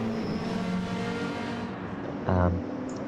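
Mercedes race car engine in a racing video game, a steady high-pitched droning whine from a single car, briefly swelling louder and rougher near the end as it revs.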